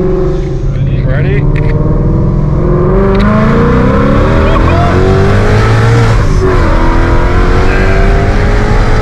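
An American muscle car with about 1000HP roaring hard as it accelerates on a test drive, loud and close with a rising engine note sustained throughout and people talking over it.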